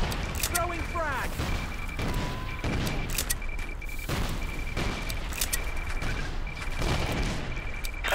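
A frag grenade blast in a video game firefight: a heavy boom among bursts of rapid gunfire and mechanical clatter, with game voice callouts throughout.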